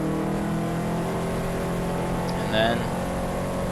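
Race car engine from a Spec Iron race drones steadily from inside the cockpit, loud and continuous beneath a brief spoken phrase, the note holding fairly constant rather than clearly dropping off.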